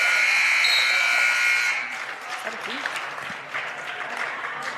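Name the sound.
game buzzer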